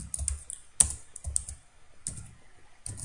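Code being typed on a computer keyboard: clusters of sharp key clicks with short pauses between them, close and moderately quiet, with no voices.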